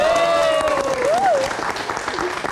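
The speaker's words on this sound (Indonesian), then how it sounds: "Mana tepuk tangannya?" Audience applause at a live talk show event, a steady broadband clatter of clapping with a whistle or cheer rising and falling over it, alongside some voices.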